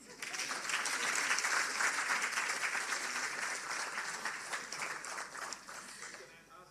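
Audience applause at a public sector service excellence awards ceremony, dense sustained clapping from a large hall that swells early then slowly tapers, with voices mixed in.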